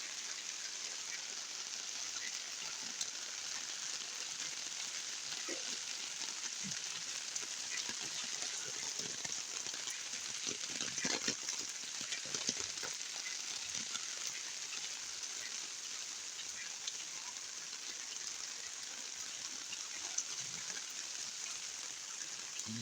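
Heavy rain falling during a flood in a residential village, a steady, fairly quiet wash of rainfall with faint drips and trickling water and no talk.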